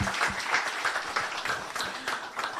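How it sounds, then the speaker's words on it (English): A round of applause at a company briefing, moderate clapping from a small audience, fairly even and continuous over a short stretch. "maybe we can give a round of applause to Memnyari"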